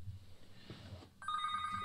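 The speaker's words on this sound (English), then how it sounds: "who's that phone call?" A telephone rings with a steady electronic tone that cuts in partway through, fairly close and clear over low room noise.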